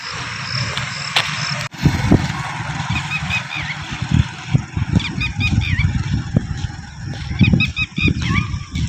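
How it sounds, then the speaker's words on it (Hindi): Red-wattled lapwing calling outdoors along a road, sharp bird calls repeating in several quick bursts over a steady low rumble of traffic and wind. "ये हमारी ज़ुबान में हम इधर इस परिंदे को कहते हैं टटीरी।"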